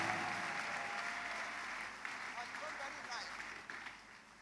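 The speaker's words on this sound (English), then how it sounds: "You can clap louder than that, people of God." A church congregation claps in celebration during a lively worship service, a dense sustained wash of applause mixed with crowd voices and cheering, steady throughout with no clear gaps.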